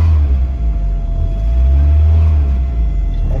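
A 1990 VW Cabriolet engine idles steadily, heard from inside the car as a loud, deep continuous rumble with a faint constant whine above it.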